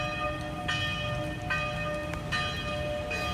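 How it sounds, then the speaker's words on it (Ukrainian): Church bells ring from a church tower topped with a cross, several repeated metallic strikes sounding at a steady pace over constant outdoor background noise. "Але зверху хрест, дзвони."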